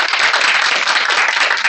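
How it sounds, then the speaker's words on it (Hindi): A village audience in Banmalipur Sarak, Odisha, claps together loudly and densely, a steady close burst of applause lasting under two seconds with no talking. "अरे ताली तो जोरदार बजाओ"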